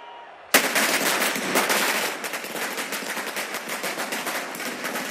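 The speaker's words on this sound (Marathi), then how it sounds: "राष्ट्रवादी काँग्रेसच्या कार्यकर्त्यांनी गुलाल उडवत आणि फटाके जल्लोष साजरा केला." Firecrackers burst in a dense, rapid string at an NCP election victory celebration in Shirur, erupting suddenly after a quiet moment and crackling loud and continuous without pause.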